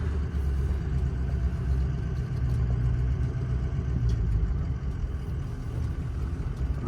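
A Peterbilt truck rolls along a dealership row, its engine holding a steady, loud, low rumble close by with no pauses, only slight swells in throttle and no voices.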